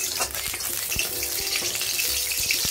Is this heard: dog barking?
no